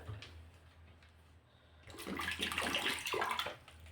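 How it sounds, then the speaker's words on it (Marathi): Water is poured into a pan of fresh green chickpea curry, a broad splashing gush rising after a quiet start and running for about two seconds before tapering off, close and moderately loud. "अजून थोडंसं पाणी टाकते बघा"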